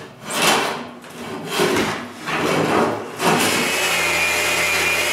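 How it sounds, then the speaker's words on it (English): A hand plane is pushed along a wooden workbench top with the grain, giving about four long, rasping strokes in steady rhythm, close and loud, followed by a continuous steady hiss. "I plane the whole surface with the grain."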